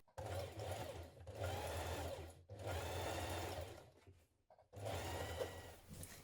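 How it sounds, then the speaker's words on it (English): A sewing machine runs in four steady bursts, top stitching down the side leg seams of spring trousers, with short pauses between runs; close and clear, no talking. "Now top stitch down each side leg."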